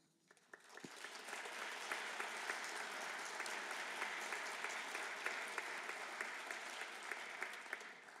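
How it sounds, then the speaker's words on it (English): An audience breaks into applause, swelling quickly from near silence into a full, even wash of many hands clapping that holds steady, moderately distant, with no talking. "Deserving of the applause"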